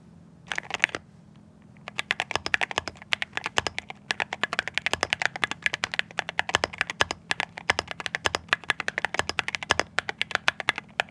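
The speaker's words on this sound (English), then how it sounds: "This is my custom keyboard." Typing on a custom mechanical keyboard, a steady run of crisp, close key clicks and taps with brief pauses, under a low constant hum and no talking.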